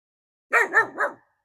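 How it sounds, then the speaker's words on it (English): A small dog's intruder alert bark: a close, loud burst of three quick yappy barks in a row, then silence. "intruder alert bark."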